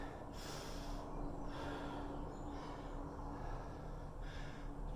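Heavy, rhythmic breathing during recovery from an at-home CrossFit interval workout, several loud breathy exhalations and inhalations close to the microphone with no talking.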